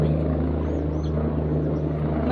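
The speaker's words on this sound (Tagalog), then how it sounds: "helicopter." A helicopter overhead produces a steady, low, throbbing engine and rotor drone that stays fairly loud throughout, with no voices.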